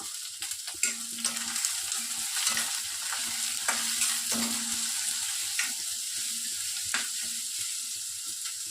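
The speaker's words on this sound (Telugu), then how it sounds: "ఆనియన్స్ బాగా గోల్డెన్ కలర్లో వచ్చే వరకు వేయించుకోవాలి" Chopped onions and green chillies frying in oil in a pan, with a loud steady sizzle and repeated scraping strokes of a spatula stirring them.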